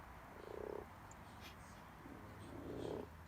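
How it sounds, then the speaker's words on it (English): Frogs croaking by a garden pond at night, two soft croaks a couple of seconds apart, faint and distant over a quiet dark background. "Sitting by the pond in the dark is the most perfect place to unwind while I listen to the frogs."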